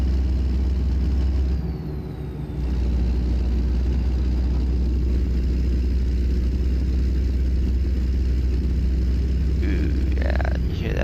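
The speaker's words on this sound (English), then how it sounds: "Awesome sound of the engine." A Kenworth W900 truck engine in a driving video game, a steady loud low diesel drone cruising along the road, continuous throughout with a brief dip in intensity near the start.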